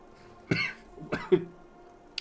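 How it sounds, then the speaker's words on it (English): Two or three short, close coughs in quick succession, with a faint throat-clearing quality, over a quiet background. "Oh, I need to cough again."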